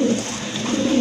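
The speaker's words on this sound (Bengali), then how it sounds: "আরেক জোড়া কবুতর, সবার পছন্দের এক জোড়া কবুতর" Pigeons coo close by at a pigeon market, a soft continuous low warbling in one brief burst with no voices over it.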